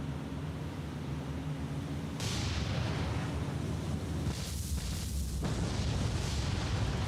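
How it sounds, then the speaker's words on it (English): Bomb hits strike the heavy cruiser Wichita in the naval combat game War on the Sea, a sudden loud blast at about two seconds followed by sustained rumbling explosions and a second burst near four seconds. "Wichita was hit by a bomb."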